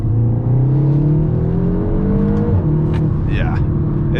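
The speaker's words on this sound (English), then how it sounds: "I've only done a exhaust, axle back exhaust, a Scorpion system, and it sounds, well, amazing." A Seat Leon Cupra 300HP with an EA888 engine and a Scorpion axle-back exhaust drives along. Its loud, steady exhaust drone shifts pitch as the car eases off, and someone talks over it from inside the car.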